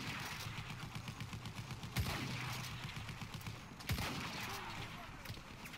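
Rapid automatic gunfire in the video game Battlefield 1, a dense, continuous rattle of shots punctuated by two heavier blasts, with voices talking over the combat.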